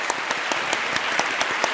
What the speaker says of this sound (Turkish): Eylül Hanım'a iletelim efendim alkışları.